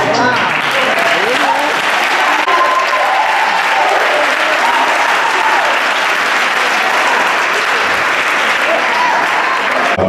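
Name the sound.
congregation applauding the pastor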